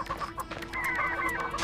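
Cartoonish chicken clucks from the chicken gun in Ratchet and Clank, a quick run of bright clucks and squawks over faint game background noise.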